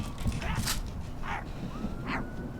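A person imitates dog noises in the video game My Friendly Neighborhood, giving three short yipping barks and whimpers spaced about a second apart over a steady background hum.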